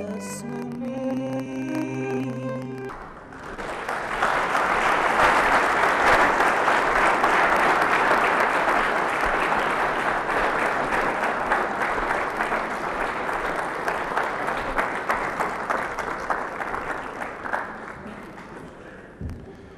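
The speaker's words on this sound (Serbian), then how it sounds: "Nego šta nego da mi pljeskate" An audience at a Serbian cultural days event applauds a performer, a dense sustained clapping that rises after a brief musical tail and holds strongly for about fifteen seconds before thinning out.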